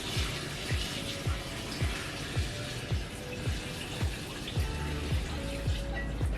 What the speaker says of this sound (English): I'll be dumping my 16 cups of water in here.